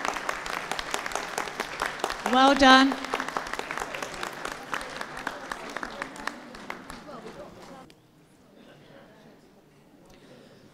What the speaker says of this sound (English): Can we give a round of applause to those leaving the ring?